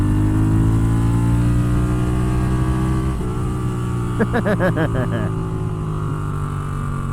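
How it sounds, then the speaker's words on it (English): A Moto Guzzi Griso 1100 V-twin motorcycle engine idles with a low throb, then revs up in a few quick rising bursts before settling back to idle. "Let's rev it out a little bit, but you know, I'm slow to rev."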